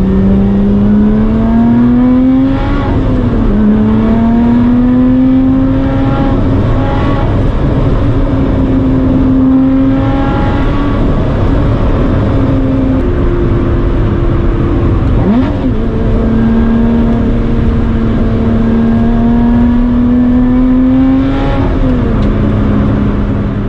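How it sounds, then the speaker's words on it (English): A Lotus Exige sports car is driven hard on New Zealand back roads, its engine loud and close with repeated rising revs through the gears and brief dips between shifts, continuous throughout. "We can now push the car a little bit and have some fun on the road."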